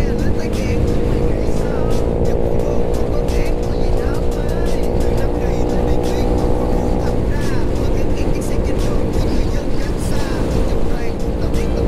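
A Honda Wave motorbike with a loud aftermarket exhaust pulls steadily under even throttle on a road in Tây Ninh, Vietnam, a continuous loud droning engine note with no break, close to the microphone.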